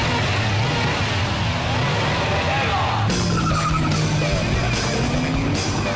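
Loud, continuous engine roar from a Jaguar and an Australian car racing on a track, with shifting pitch, tire noise and a sudden change in tone partway through as the cars pass.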